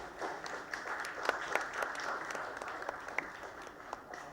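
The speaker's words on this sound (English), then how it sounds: "Please give them the round of applause" Audience applause at a ceremony honouring nurses and corona warriors, a steady patter of many hands clapping at moderate volume, with a few sharper individual claps standing out.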